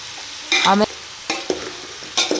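Steamed vegetables with peanuts, pepper powder, salt and turmeric being stir-fried in a pan, with a few distinct scraping stir strokes over a low sizzle, close and clear.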